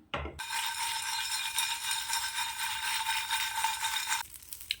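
Whole spices including cumin, pepper, cinnamon, cloves, fennel and poppy seeds dry roasting in a pan, a steady bright crackling rattle close by that cuts off near the end.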